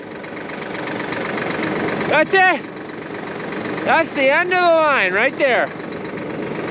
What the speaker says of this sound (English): you can also hear the tractor in the background